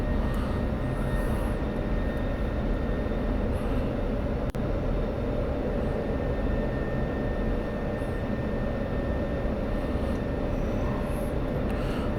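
An F-16 Viper jet in the DCS flight simulator rolls along after landing with a steady, loud, broadband engine rumble and roar, unchanging throughout, with one brief click near the middle.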